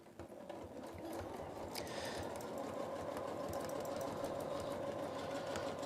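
Large free-motion quilting machine stitching feathers, a fast, even mechanical whir and chatter that starts softly and then runs steadily, faint and close.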